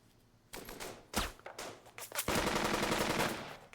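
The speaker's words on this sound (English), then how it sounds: "Oh, crap, they're shooting." Gunfire in the video game Burden of Command: a burst of automatic fire at the start, a few separate sharp shots, then a dense, sustained loud volley of rattling rifle and machine-gun fire.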